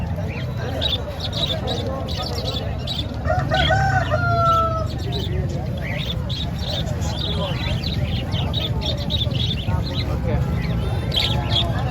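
Roosters crow and hens cluck amid the busy hubbub of a crowded poultry market in Nellore, with people talking throughout.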